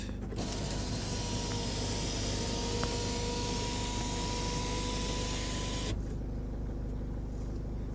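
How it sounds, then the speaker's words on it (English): Electric sunroof motor of a 2008 Renault Samsung QM5 diesel whirring steadily for about six seconds with faint mechanical creaks, then cutting off to a quiet cabin. "Let's try this sunroof."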